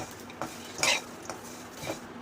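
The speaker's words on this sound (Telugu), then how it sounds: "యాడ్ చేసుకొని అవి కూడా దూరంగా వేపుకోవాలి." Whole spices such as mace, cloves and cardamom dry roasting in a pan for homemade garam masala, with a few faint, sparse clinks and scrapes of stirring against the pan and no talking.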